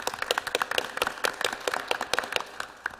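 Applause at a Lynn city council meeting, a smallish room of people clapping with distinct individual claps at a brisk, uneven rhythm, moderately close and steady for the whole stretch.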